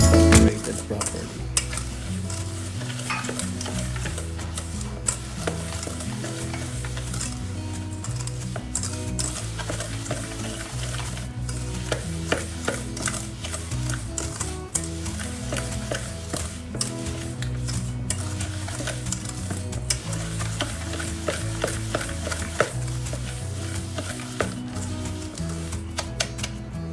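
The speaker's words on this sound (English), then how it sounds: "then we will add our brown sugar, stir it, and make sure it will be incorporated properly." Brown sugar being stirred into cookie batter in a bowl for chocolate crinkles, a steady scraping and clinking of the utensil against the bowl that runs continuously for the whole stretch.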